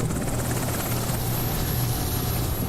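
A Chinook helicopter in a modern-warfare strategy game gives off a steady, dense rotor thump and engine roar that continues without a break and fills the whole moment.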